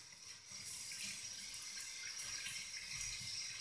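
Running water rinses a kitchen sink, a continuous soft splashing hiss from a tap with no voices over it.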